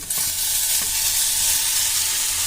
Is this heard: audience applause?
no